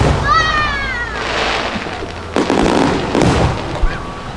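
Fireworks burst at a Fourth of July Independence Day celebration in the USA, a few deep booms and crackles at moderate distance, with people talking nearby.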